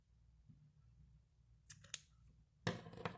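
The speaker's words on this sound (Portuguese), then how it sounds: "a gente pode cortar esse fio" Scissors cutting crochet yarn in a quiet room, a couple of soft snips followed by one sharper, louder cut near the end, close by and alone.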